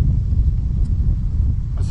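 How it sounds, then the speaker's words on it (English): Strong wind batters an unshielded Zoom H2 recorder microphone outdoors, producing a loud, continuous low-pitched rumble with uneven buffeting throughout and no voices. "As you can hear, it's very windy."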